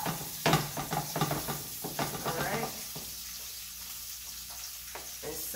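Onions and garlic sizzle in a pan as a curry shrimp base is started, a steady crackling fry that starts busy with stirring clatter and thins to a quieter hiss, with a few utensil knocks.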